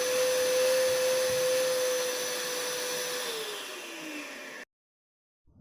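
An IQ Power Tools 426HEPA dust extractor vacuum, still holding drywall dust, runs with a steady loud whine and airflow roar, its pitch dropping as it winds down before cutting off abruptly near the end.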